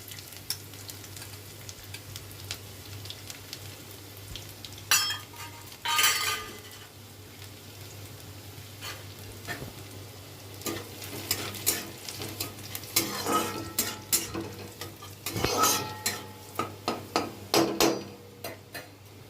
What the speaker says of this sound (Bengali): এর মধ্যে 1 চামচ মতন আমি রসুন কুচি দিয়ে দিলাম।